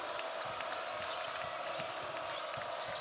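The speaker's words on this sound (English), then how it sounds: "Crowd clamoring for a stop." A crowd at an NCAA men's college basketball game between Notre Dame and Ohio State roars in a steady, loud wall of noise, with faint ball bounces and squeaks audible beneath it.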